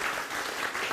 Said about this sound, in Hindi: एक बार जोरदार से तालियां भाई अपने आप के लिए